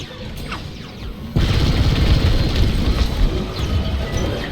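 A dish blowing up in the Star Wars: Squadrons space combat game, a sudden heavy boom that cuts in partway through and rolls on as a dense, rumbling roar over steady engine drone, no talking.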